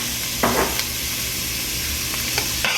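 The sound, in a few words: sauteing and stirring in a frying pan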